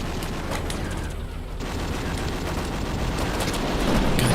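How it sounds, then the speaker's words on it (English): A machine gun fires in the Twisted Metal video game, a dense, continuous rattling barrage that stays loud and sustained throughout with no pauses, heard without any talk. "the machine gun sounds so dumb in this game"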